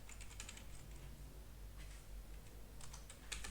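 Typing on a computer keyboard: quick, light keystrokes in short irregular bursts with small pauses, faint and close, with no voices.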